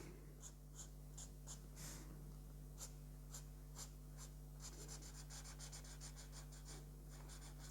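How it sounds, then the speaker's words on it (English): Faint, close squeaky strokes of a marker on paper, in short repeated bursts, over a steady low electrical hum. "I love to listen to the sound of a marker drawing."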